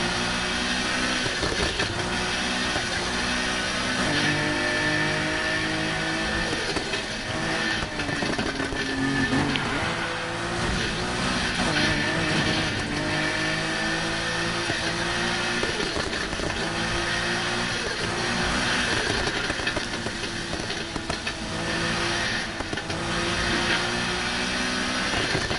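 Car engines drone and rev continuously during a midnight street race in Need for Speed Heat, a loud, dense, unbroken roar with shifting pitch that runs throughout.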